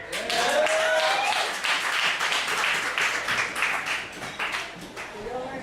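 Audience applause at a ballot celebration gathering, a dense crowd clapping that swells near the start and carries on steadily, with some voices mixed in.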